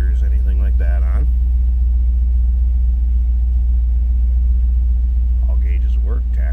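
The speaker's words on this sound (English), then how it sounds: "Let's go ahead and fire this up in here." A 1992 Chevrolet Camaro Z28 engine runs at a steady, deep idle, a constant low rumble with brief talk near the start and end.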